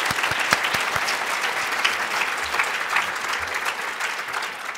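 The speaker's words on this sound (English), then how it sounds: "I want to give Pat a round of applause" A conference audience applauds, dense and sustained clapping from many hands that stays even and fairly close, then tapers slightly at the end.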